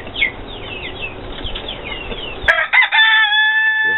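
A close, loud crow from an Onagadori rooster, a Japanese long-tailed breed, ringing out over outdoor background chatter and bird calls, with a few clucks following.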